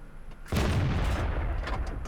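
A KV-85 heavy tank's cannon firing a blind shot in World of Tanks: one sudden, loud, close boom that leaves a rumbling tail lasting over a second.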